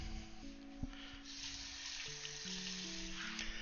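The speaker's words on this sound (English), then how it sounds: "that's just going to cook down and simmer" Tomato soup with broth cooking down in a pot gives a steady, faint broadband sizzle and simmer, continuous throughout with a low hum beneath and no talking.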